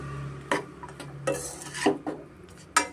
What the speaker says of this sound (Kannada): ನಮಗೆ ಚೆನ್ನಾಗಿ ಮಿಕ್ಸ್ ಮಾಡ್ಕೊಳ್ಬೇಕಾಗುತ್ತೆ